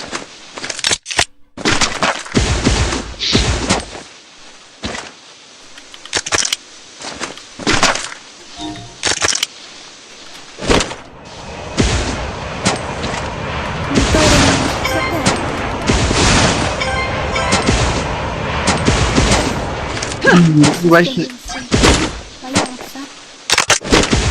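Gunfire in Free Fire, loud and close: sharp single shots and rapid bursts repeat throughout, with a dense stretch of continuous firing in the second half. A voice talks in places under the shots.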